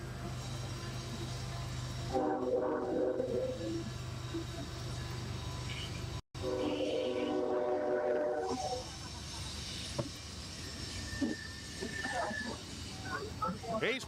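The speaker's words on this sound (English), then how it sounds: "He's pushed it wide as the train may have caused a bit of a distraction for Aguirre." A train passes near a college rugby field during a match between Army and Notre Dame College, a low rumble with bursts of rattling wagons and a distant horn-like tone, under crowd murmur and a commentator's voice.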